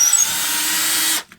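A power drill bores an exploratory hole through a house wall with a loud, close, steady whine that lasts just over a second. It then cuts off abruptly, leaving a brief faint knock.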